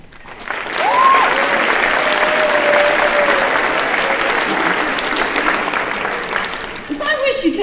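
Audience applause at a school district All City Band concert, a dense sustained clapping that swells early and holds loud for several seconds, with a voice talking over it and a brief whistle-like tone near the start.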